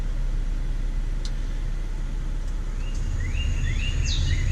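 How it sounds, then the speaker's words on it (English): Nature sounds, with chirping bird calls over a steady low rumble, play through the sound system inside a 2020 Hyundai Kona Electric, the birdsong faint and scattered, the hum constant throughout. "one of the things that this car has is sounds of nature."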